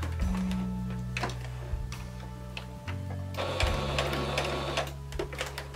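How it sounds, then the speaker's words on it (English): A sewing machine slowly pierces fabric on a bias edge while sewing doll clothes, giving sparse needle ticks over a low motor hum that pauses and restarts, close and moderately loud. "what I'm doing is I'm leaving the machine so that the needles just pierce the fabric"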